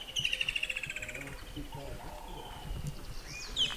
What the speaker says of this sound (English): the bird calls and everything is amazing